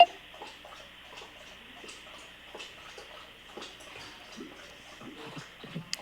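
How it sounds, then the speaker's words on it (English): A dog lapping water at close range, with steady, rapid wet ticking laps repeating throughout over a faint background hum. "you can probably hear my dog drinking right now as well"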